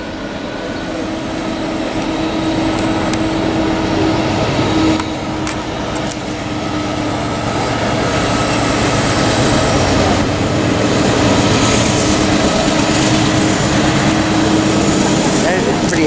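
A train passing outdoors, a loud continuous low rumble and roar that swells slightly toward the end, with people talking over it.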